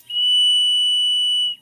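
A Hornby live steam model locomotive whistle blows one steady, shrill, clear tone lasting about a second and a half, loud and close, with no talking.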